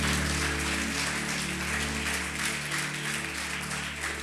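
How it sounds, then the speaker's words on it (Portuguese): A church congregation claps steadily, a dense, even wash of applause heard at moderate distance over a low humming background for a few seconds. "Você pode aplaudir o nome dele?"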